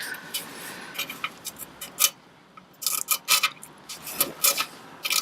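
A silver 20p coin rubbed gently over melted plastic stuck to a motorbike exhaust gives quiet, close rasping scrapes in short irregular bursts.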